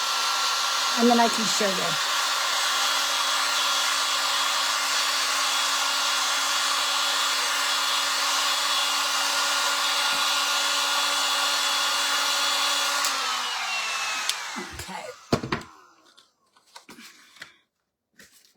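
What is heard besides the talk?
hair dryer drying chalk paint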